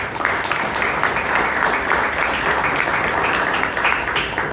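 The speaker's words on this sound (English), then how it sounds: "Can I have a round of applause for Toastmaster Thirumalesh?" Steady applause from a Toastmasters club audience at an anniversary meeting in Bangalore, dense clapping sustained for several seconds at an even level with no speech over it.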